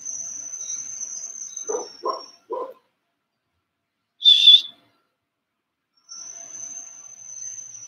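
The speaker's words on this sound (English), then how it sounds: "She's still barking." A dog barks three times in a quiet indoor room while a delivery person is nearby, the barks close and sharp, followed by a brief high squeal or whistle-like sound.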